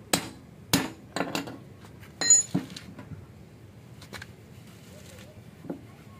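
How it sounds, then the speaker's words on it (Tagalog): Hammer blows on a part of a 4BC2 steering pump under repair: several sharp metallic taps at irregular intervals, one brief cluster of rapid strikes, close and moderately loud against a quiet workshop background. "Pinukpok ko rin yung martilyo yan."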